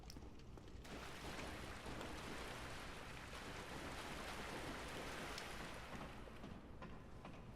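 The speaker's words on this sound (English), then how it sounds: "Am I the only person that gets really annoyed by the water sound effects?" Water in Dark Souls rushes and hisses as a continuous, even wash of splashing noise, like a steady stream or downpour, faint and unbroken for several seconds with no voices.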